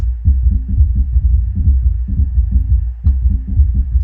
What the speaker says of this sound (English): There's quite a lot of kicks in there